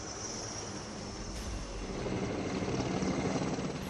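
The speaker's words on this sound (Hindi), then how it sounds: "सबसे पहले राहत फॉर्मेशन के साथ मी-17 V5 हेलीकॉप्टर्स होंगे।" Mi-17 V5 military helicopters flying over the Republic Day parade on Rajpath, a steady broadband rotor and engine roar at moderate distance that swells slightly louder midway, with no voices.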